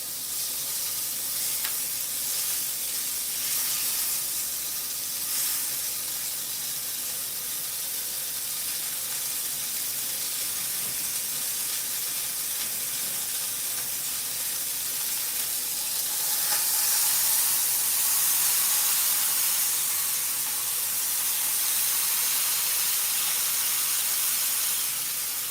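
Thick burgers sizzle steadily in a cast iron pan, a continuous bright hiss and crackle that swells louder toward the end, with no talking.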